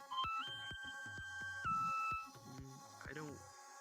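Electronic ringtone-like beeps and tones sound in a short melodic sequence, moderately quiet, with brief synthetic chirps between notes.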